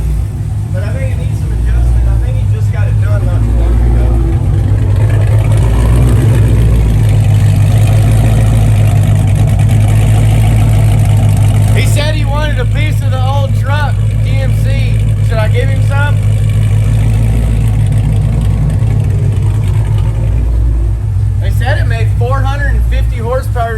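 A Chrysler 300 with a cammed 6.1 Hemi V8 idles steadily and loudly up close, its deep, lopey rumble continuous throughout, with people talking over it.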